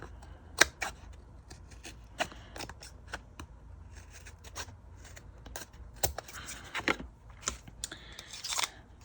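A piece of chipboard is cut down, giving a close series of crisp snips, scrapes and rustles in an irregular rhythm with brief pauses, no talking.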